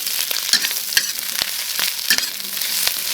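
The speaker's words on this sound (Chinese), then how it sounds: "先把这个肥嘎嘎下锅炒，把它炒出一点油来啊" Fatty cured pork sizzling in a wok, a steady close frying hiss broken by sharp crackles and pops from the hot fat, with the occasional scrape of stirring.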